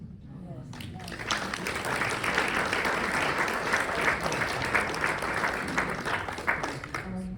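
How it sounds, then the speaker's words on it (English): An audience at a talent night breaks into warm, sustained applause, a dense wash of many hands clapping close by that builds quickly, holds steady and begins to fade near the end, with some voices under it. "You don't have to clap between everyone."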